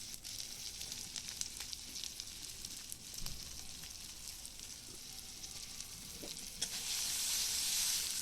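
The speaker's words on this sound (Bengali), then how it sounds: "অল্প একটু জল দিয়ে মশলাটা ভালোভাবে কষিয়ে নেব" Spice masala of chopped tomato, cumin and coriander powder for egg curry fries in a pan over a wood-fired clay stove, giving a steady close sizzle with scattered stirring scrapes that swells louder near the end.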